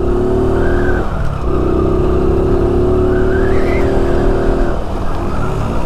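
A Honda Biz 125 motorcycle engine revs hard while climbing uphill during a wheelie attempt, a loud close continuous drone whose pitch rises and falls with the throttle, with no talk.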